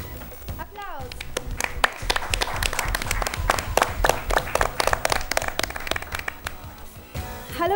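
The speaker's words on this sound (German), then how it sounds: "Applaus!" An audience claps and applauds steadily for several seconds at a televised model show, with a dense patter of hand claps and a voice briefly heard over it.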